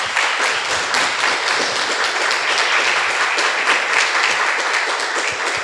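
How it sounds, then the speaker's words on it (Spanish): A crowd applauds doña Tere, a first-time visitor, in a dense, loud, continuous burst of clapping that holds steady throughout with no break. "Un aplauso para doña Tere ahí que..."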